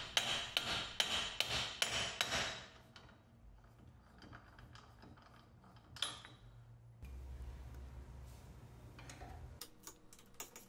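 Hammer blows on a socket fitted to the axle nut of a Range Rover Sport or LR3 wheel hub, about eight close, loud metallic strikes in quick rhythm, followed by quieter shuffling and workshop handling noise.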